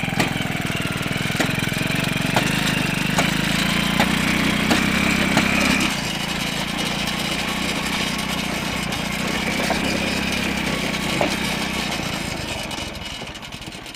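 A bike-engine cultivator ploughs soil in a clay field, its small engine running loud and close with a steady rhythmic chugging drone that drops slightly after about six seconds and continues evenly to the end, without talking.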